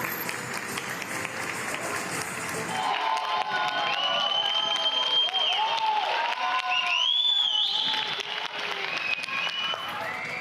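People across Brazilian cities applaud health workers from their homes, distant clapping and cheering echoing between buildings, with whistles and shouts rising midway under a narrator's voice.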